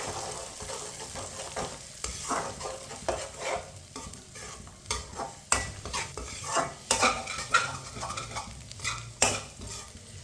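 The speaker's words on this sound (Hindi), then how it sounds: "अंडों को मैंने 2 मिनट के लिए पका लिया चम्मच चलाते हुए।" Three eggs cooking with dry fruits in a pan for gajar ka halwa, stirred with a spoon: repeated scraping and clinking strokes over a steady soft sizzle, close and fairly loud, with no voices.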